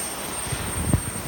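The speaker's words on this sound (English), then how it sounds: "It's a small prop plane." A small propeller plane at Memanbetsu airport in Hokkaido drones as a steady, low engine hum at some distance, with faint thuds and no talking.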